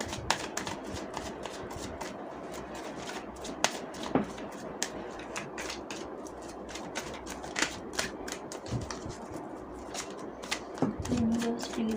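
Tarot cards shuffled by hand during a reading, giving a long run of quick, crisp riffling snaps and flutters, steady and close, with occasional sharper slaps.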